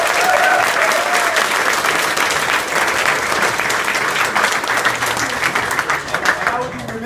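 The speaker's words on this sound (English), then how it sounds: "Let's give him a round of applause." Steady, dense applause from a political rally crowd in Ottawa fills the whole stretch, loud and continuous with a faint voice briefly audible near the start.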